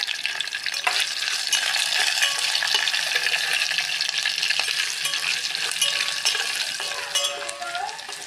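Curry leaves and dried red chillies crackle and sizzle in hot oil for a lentil-dish tempering, a steady close hiss with light stirring scrapes and a few utensil clinks, no voices.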